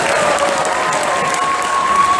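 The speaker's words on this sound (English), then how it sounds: "Let's give him a big round of applause" Audience applause at an anime convention panel, Sakura Con 2019: a dense, steady wash of clapping from a crowd, loud and sustained throughout, with a faint thin tone running beneath.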